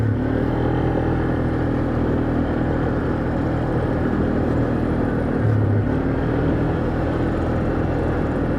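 Polaris Sportsman 500 ATV with a new top end idling steadily close by, a continuous engine drone with a faint squeal running through it, no voices.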